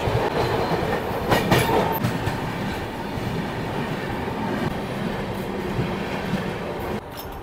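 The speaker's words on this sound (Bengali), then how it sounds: "এই ট্রেন এখন ঢুকছে রায়গড় স্টেশন।" A Maha Kumbh special passenger train rolling into Raigarh station at night, heard from onboard: continuous rumbling wheel noise with clickety-clack and a faint squeal, steady and close throughout.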